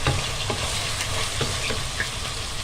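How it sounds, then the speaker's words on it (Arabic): Chopped onion for a macaroni sauce fries in a pan with salt and black pepper, a steady close sizzle with soft scraping stirs throughout and no talking. "نحط على البصله دي شويه ملح، شويه فلفل اسود، نفضل نقلبها"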